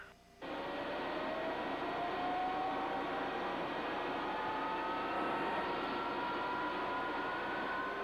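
A heavy military cargo airplane's engines whine and roar steadily on the ground before departure, with a smooth rising tone under the broadband rumble and no voices.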